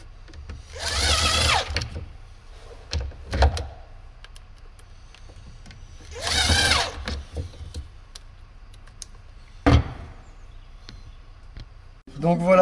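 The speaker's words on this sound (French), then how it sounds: "là tu as vissé le zinc sur la planche" Screws 5–6 cm long are driven through a zinc sheet into a wooden plank with a power screwdriver in two loud whirring bursts, separated by quieter clicks and handling knocks at close range.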